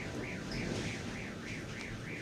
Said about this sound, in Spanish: de hecho se activó hasta una alarma de un vehículo